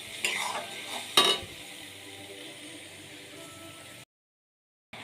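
Onion and green chilli paste with cumin being stirred and sautéed in a pan, scraping strokes over a steady close sizzle before the sound cuts off.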